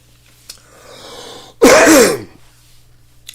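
A person clears their throat once in a short, loud, harsh burst during a breathing exercise, following a stretch of quiet breathing, then silence.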